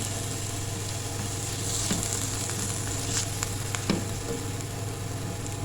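A soy sauce mixture fries in a pan for bread chicken patties, giving a steady close sizzle with a few sharp clinks and scrapes of stirring, and no voices.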